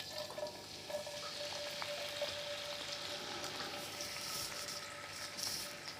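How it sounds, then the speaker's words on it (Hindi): Finely chopped garlic and ginger fry in half a cup of desi ghee, giving a soft, steady sizzling hiss with faint stirring, quiet and continuous throughout. "उसमें हम 3 टेबलस्पून लहसुन और अदरक बारीक चॉप्ड कटा हुआ ऐड करेंगे।"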